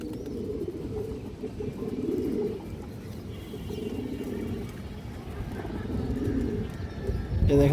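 Pigeons at a pigeon farm, a flock cooing in low, continuous, overlapping murmurs at close range, with no voices.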